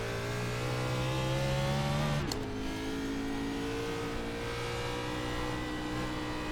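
Loud, steady race car engine drone at Darlington in iRacing, holding a high pitch, then shifting with a sharp click around two seconds and continuing to roar close by.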